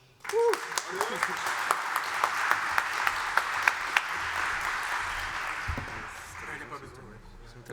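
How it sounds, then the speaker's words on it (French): An audience at a security conference's lightning-talk session claps for the next presenter, a full round of applause with sharp individual claps standing out, fading toward the end, with a voice briefly heard. "Vous avez le droit de l'applaudir pour lui donner du courage."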